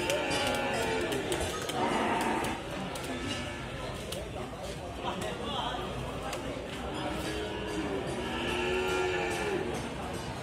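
A pregnant cow with a long body, which has calved three times, moos in long, low calls at the start and again near the end, while people chatter in the background throughout.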